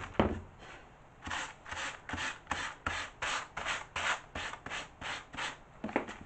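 Rhythmic back-and-forth rasping of sandpaper rubbed over a surface, about a dozen even strokes close by, with no talking.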